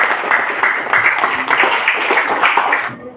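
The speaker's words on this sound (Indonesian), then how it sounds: "kita tepuk tangan" Classmates clap after a student presentation in a classroom, a steady burst of hand clapping lasting about three seconds before it stops abruptly.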